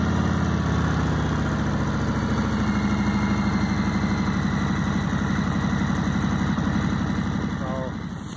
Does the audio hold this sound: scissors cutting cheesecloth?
no